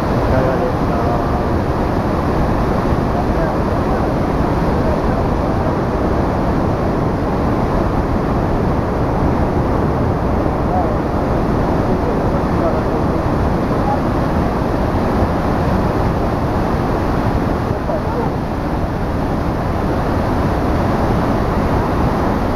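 Roar of Iguazu Falls at the Devil's Throat on the Argentine side, a loud, dense and unbroken wash of rushing water that holds steady for the whole stretch.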